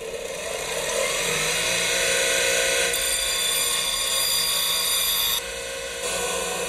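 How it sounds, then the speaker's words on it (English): A bench grinder sharpening a lawn tractor mower blade gives a steady, loud, high whine with a harsh grinding hiss that holds nearly unbroken for several seconds, then shifts slightly in tone near the end. "Turn the grinder on."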